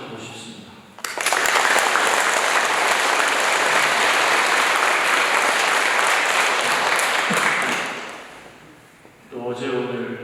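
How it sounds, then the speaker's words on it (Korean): A congregation at a Catholic Sunday Mass in Korea breaks into loud, sustained applause that lasts several seconds and then fades, with a voice speaking just before and after. "격려와 응원의 박수를 한번 치고 시작하고 싶습니다."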